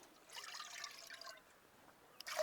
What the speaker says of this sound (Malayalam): ഇനി നമുക്ക് 200 ml കപ്പ് കൊണ്ട് 4 കപ്പ് പാൽ ഒഴിച്ചു കൊടുക്കാം.